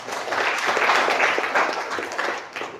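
A class breaks into steady, dense applause, with many hands clapping together at close range for a few seconds and no speech over it.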